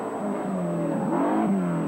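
A Ford Escort rally car, a Mass Sport entry, races past on a 1970s British rally stage with a loud revving engine whose pitch climbs and shifts, close and continuous for the whole moment.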